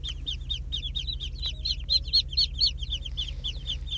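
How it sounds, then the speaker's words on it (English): Muscovy ducklings peep in a shipping box, a dense run of high, rapid chirps from several birds over a low steady hum, close and fairly loud with no talking. "In this box, these are Muscovy ducklings"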